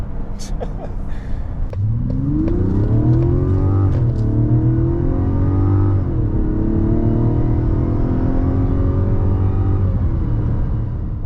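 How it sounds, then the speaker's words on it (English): The smooth inline-six engine of a 2025 Mazda CX-90 GT-P revs and pulls hard through rising gears, loud and close, its pitch climbing steadily with a brief shift dip. "Best part is you get to listen to that engine"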